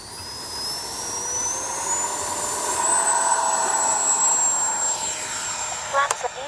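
A Freewing F-22 Raptor 80mm electric ducted-fan RC jet flies through the evening sky, its high, whining turbine tone sweeping and shifting pitch as it passes, steady and fairly loud, with a brief thump near the end.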